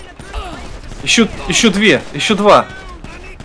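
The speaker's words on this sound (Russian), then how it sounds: "Я не понимаю, откуда стреляют, короче." Gunfire in GTA 5, a few sharp, scattered shots at moderate distance under someone talking close to the microphone.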